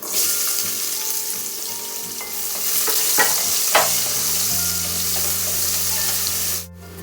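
Garlic and onion frying in hot oil, a steady close sizzle with a few stirring scrapes, then a low hum enters near the end before the sound cuts off abruptly.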